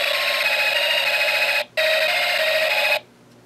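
An electronic alarm from a Snap Circuits alarm IC loops as a loud steady buzzing tone that cuts out briefly, resumes, then stops, with no voices.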